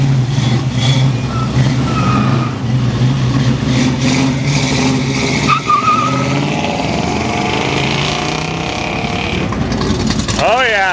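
A 340 wedge four-speed muscle car does a burnout at a car show, its engine roaring loud and continuous with rising revs and tire squeal toward the end, while crowd voices sound underneath.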